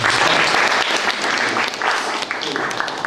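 An audience at a talk concert on land-justice activism gives sustained, steady applause, dense clapping that stays loud and even for the whole stretch without talk over it.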